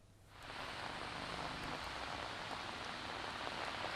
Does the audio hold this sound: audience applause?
no